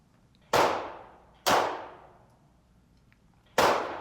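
A pistol with a 9-pound spring and shock buff fires test rounds at a shooting range. There are three loud, sharp reports at uneven intervals, each with a short ringing decay, and no talking.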